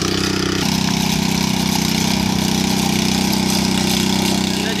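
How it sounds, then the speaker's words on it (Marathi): Tractor engine running in a field during rainy-season ploughing in Konkan, a loud, steady close-up mechanical drone with a continuous rhythmic chug, alone without speech. "तर यासाठी पहिला बाहेर जरा ट्रॅक्टरचा पाठीमागे आवाज येता"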